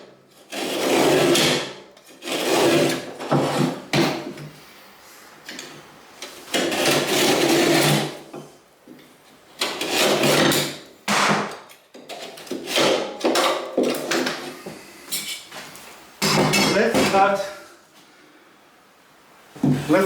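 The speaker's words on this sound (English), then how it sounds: "Let's cut another piece of the drywall like this." A drywall sheet is being cut with a power tool in repeated bursts of buzzing, rasping noise, loud and close, separated by short pauses.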